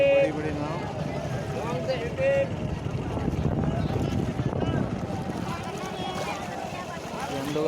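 Big boats on the Ganges at Varanasi, with a steady wash of water and motor rumble and wind buffeting the microphone, while people talk nearby throughout.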